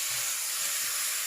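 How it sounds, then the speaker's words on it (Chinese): Konjac tofu goes into a hot wok already sizzling with chili bean paste, pickled long beans and red pepper, giving a steady, dense sizzle and hiss that holds throughout with no one speaking. "再倒入魔芋豆腐"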